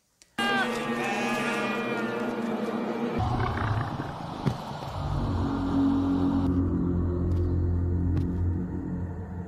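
Several goats bleat loudly and continuously up close, overlapping calls giving way to a deep rumbling growl underneath.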